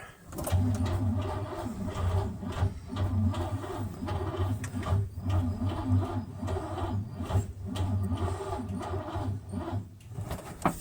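An engine cranks over during a start attempt, a loud, steady, rhythmic churning from the starter that runs unbroken for around ten seconds and never catches.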